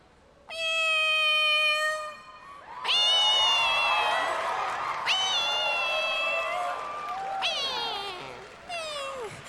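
A woman imitates a cat meowing on stage at the 70th Miss Universe pageant, a series of drawn-out, high mews, loud and close, with crowd cheering and shouting between them.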